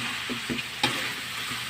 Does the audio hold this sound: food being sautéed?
yes